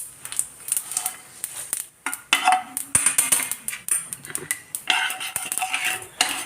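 A metal spoon scrapes and clinks repeatedly against a vessel while ground puliyodharai powder is tipped in, with irregular close taps and scraping strokes.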